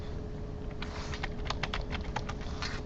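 Keys tapped on a computer keyboard in a lecture room, a quiet irregular patter of clicks over a steady hum.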